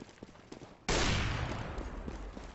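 Sustained spray of automatic gunfire in a competitive first-person shooter match bursts in suddenly and stays loud and dense to the end, after a quieter stretch of scattered shots.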